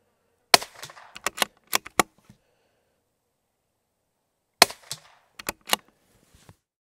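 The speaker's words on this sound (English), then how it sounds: "shot number 3 broke the sound barrier, 1169" Sharp gunshots fired with Winchester Subsonic 42 Max ammunition, two clusters of roughly six crisp cracks each with brief echoes, separated by a few seconds of silence, fairly close and alone.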